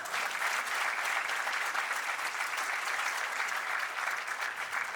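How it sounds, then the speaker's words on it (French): A live comedy show audience applauds loudly, a dense, even wall of clapping sustained for several seconds with no talk over it. "on va applaudir très fort Barnet."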